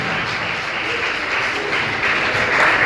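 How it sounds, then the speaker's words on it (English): An audience at a panel event applauds the panelists, a dense, sustained clapping that swells slightly toward the end. "Please, a round of applause for all our panelists."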